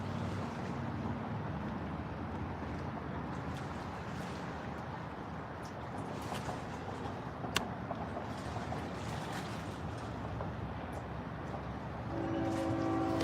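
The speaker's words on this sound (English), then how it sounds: "I definitely heard a train horn." A steady low rumble of a train fills the scene at Stuart, with a distant train horn emerging faintly near the end.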